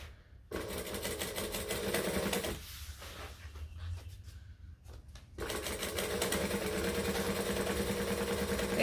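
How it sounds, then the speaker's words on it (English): Sewing machine stitching down the bottom edge of a fabric book bag backpack, running in steady buzzing bursts with a short pause in the middle, close and fairly loud. "We're just stitching the bottom so that this stays in place for the next part"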